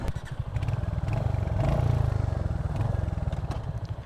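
A Royal Enfield Hunter 350 motorcycle on the move, its low thumping single-cylinder engine pulsing steadily and close, swelling briefly as the rider opens the throttle, then settling back.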